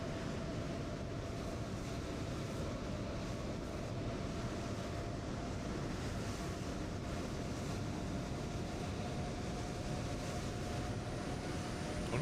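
An airliner, a heavy jet on runway 26 left in Microsoft Flight Simulator, spools up for takeoff as a steady, loud broadband engine roar that holds constant throughout with no voices.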